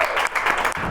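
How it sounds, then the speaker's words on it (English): A short round of applause from participants in a takt-time construction simulation exercise, a brief burst of clapping with a few loud individual claps. "round of applause, yeah."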